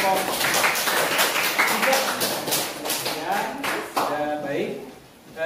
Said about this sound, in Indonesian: Berikan tepuk tangan untuk presentasi kelompok.